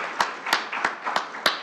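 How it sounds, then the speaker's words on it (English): Applause from an audience at a Native Edge Institute talk in Brooks, California comes as sparse, evenly spaced claps, about five sharp hand claps ringing close in a small room. "Big round of applause."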